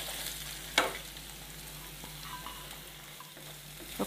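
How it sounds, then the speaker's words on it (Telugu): Carrot pieces drop into hot oil with tempering spices for a carrot coconut curry, a quiet steady sizzle with one sharp clatter near the start and faint stirring afterward. "ఈ మన పోపు వేగింది నేను క్యారెట్ ముక్కలు వేస్తున్నాను"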